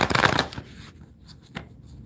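Tarot cards are shuffled in a quick riffling burst, close and crisp, followed by a softer brief flick of cards, with no talk.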